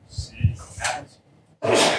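A sneeze during a live Everwinter 2023 finals game broadcast, with a quick inhaled build-up and then a loud, sharp burst near the end, following brief casual talk.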